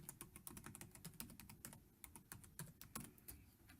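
Rapid, uneven keystrokes on a computer keyboard as a password is entered, a dense run of close clicks with brief pauses, alone without speech.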